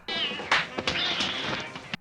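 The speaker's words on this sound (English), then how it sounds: "It gets heated until she and Francesca catfight with cat noises." Harsh, strained yowling and hissing cries from a cartoon catfight clash together in a loud, chaotic burst, with a few sharp thumps in between.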